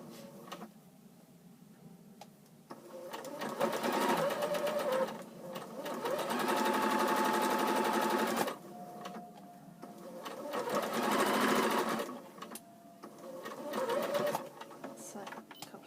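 Sewing machine stitching pyjama fabric while the bobbin runs low, with steady whirring runs of rapid needle action that start and stop in several bursts, close and clear, and a voice speaking during the quieter gaps.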